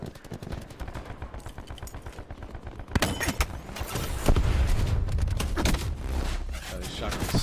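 Repeated gunfire crackles through a first-person shooter match, a fast rattling burst giving way to heavier, denser shotgun blasts and booms, with voices talking over the action.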